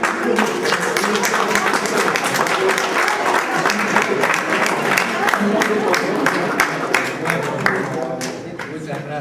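A university lecture audience at the UNAM breaks into loud, sustained applause with dense clapping and some cheering, continuing for several seconds before easing slightly.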